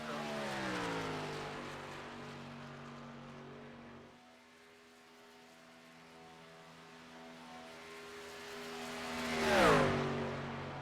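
A racing truck engine on a superspeedway in the iRacing sim sounds as a steady, loud harmonic drone that dips and then swells in a sharp pitch sweep as it passes, with no voices.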